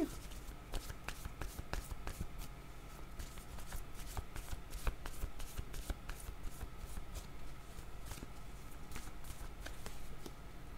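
Tarot cards are shuffled for a card draw in a fast, continuous riffling flutter of crisp card slaps, close and fairly quiet, with no talking.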